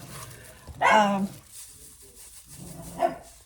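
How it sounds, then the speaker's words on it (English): A dog barks once loudly nearby, with a few softer yips afterward and a voice faintly in the background. "Brindley, stop barking while I'm making a video, please."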